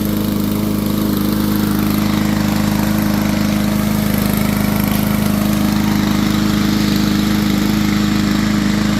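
A Yard Machines push mower with a freshly cleaned Powermore carburetor runs at a steady idle, a loud, even engine drone with a constant low hum throughout and no talking.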